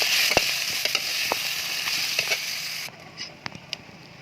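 Fish frying in oil in a kadai gives a steady bright sizzle with scattered pops and crackles, dropping abruptly to a quieter hiss near the end.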